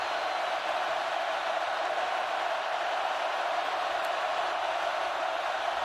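Steady roar of a packed stadium crowd at night during an LSU home football game against Ole Miss, a dense continuous wash of cheering and noise holding at an even level throughout.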